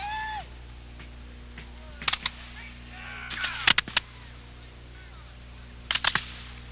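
Musket and cannon fire ring out at a Revolutionary War re-enactment of the Battle of Bennington, August 16, 1777, as Baum's redoubt comes under attack. Sharp reports land in three short clusters of several shots each, with voices talking between them.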